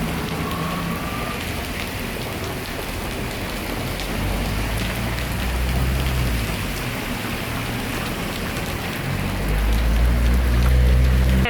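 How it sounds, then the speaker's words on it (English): Heavy rain pours steadily in Port Louis, Mauritius, a dense close hiss of drops on surfaces with a low rumble that swells toward the end, and no talking. "Still pouring with rain, but the sun is now out."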